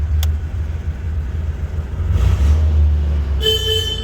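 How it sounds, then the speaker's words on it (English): A single short honk from the horn of a 1978 Reliant Scimitar GTE SE6 sounds near the end, over the steady low rumble of its idling 3.0-litre Essex six-cylinder engine close by. "We have a horn."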